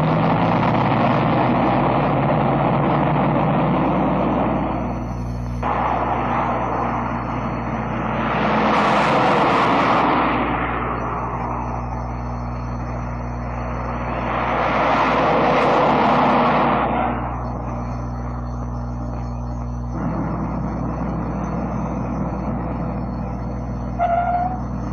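Mid-1950s cars accelerate from a standing start in a timed acceleration test, a loud, steady engine roar that swells twice as the cars pass close by, then settles back to a constant drone.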